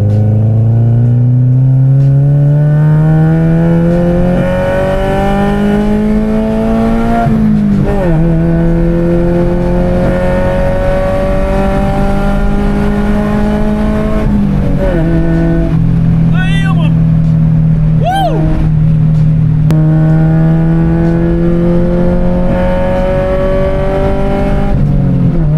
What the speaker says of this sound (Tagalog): Ito na, VTEC time. Second gear tayo, second gear.